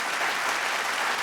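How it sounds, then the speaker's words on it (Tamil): An audience at a stage event for a Tamil film actor claps loudly and steadily, a dense, even wash of applause with no speech over it. "ஒரு பலத்த கைத்தட்டல் கொடுத்தலாம்"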